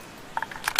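A homemade carbine rifle being reloaded: a few quick, crisp metallic clicks and clacks close up, ending in two sharper snaps, alone with no talking.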